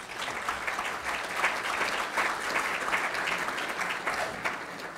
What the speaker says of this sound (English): if you'd like to give all them a round of applause